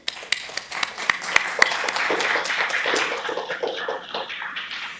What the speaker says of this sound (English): Let's give a big round of applause for our add-ons reviewers.